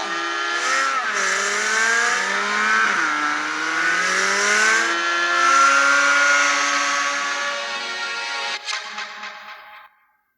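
A 2023 Chevrolet C8 Corvette Z06 engine screams at high RPM, loud and close, with rising and falling revs through gear changes before cutting off abruptly near the end.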